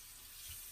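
Water running from a tap into a sink during hand washing as a coronavirus precaution, a brief, faint, steady hiss of flow lasting under a second.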